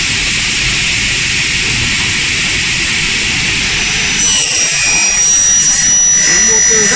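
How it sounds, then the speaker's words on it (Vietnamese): A new F88 double-head aluminum cutting machine runs at full power with a loud, steady, roaring whine. Partway through, the tone sharpens as the blade bites into aluminum. "Sau đây tôi sẽ cắt thử đầu máy số 1 cho anh em xem nhé."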